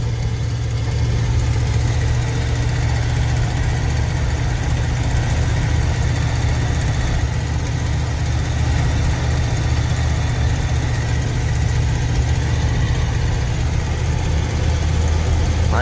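A 1994 Ford F150 with a C6 automatic transmission conversion runs steadily at a constant engine speed, a low continuous rumble heard close up from inside the cab with no pauses.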